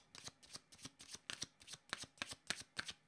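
Tarot cards being shuffled by hand, a quiet, close series of rhythmic riffling flicks, about a dozen evenly spaced bursts with no talk.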